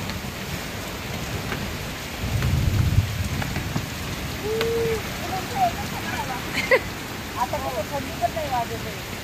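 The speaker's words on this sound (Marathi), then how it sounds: "सगळं पाऊस, वादळ, वारा" Steady rain falls throughout a thunderstorm with wind, a low rumble swelling briefly near the start and scattered drops spattering close by, while faint voices and bird-like chirps sit in the background.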